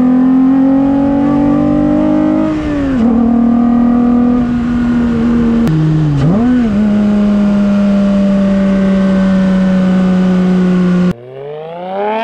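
A Toyota MR2 fitted with a 2GR V6 engine revs loud and close, holding a steady idle-like drone that swells and dips with throttle blips before cutting off near the end.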